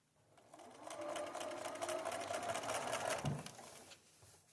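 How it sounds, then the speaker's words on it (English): A sewing machine stitches quilt fabric with a steady, close mechanical whir. It runs continuously for about three seconds, then stops, with no talking. "so we're gonna start sewing"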